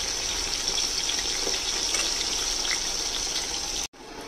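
Pointed gourd (potol) pieces frying lightly in oil, a dense steady hiss close up that runs throughout, briefly cut off near the end, with no voices.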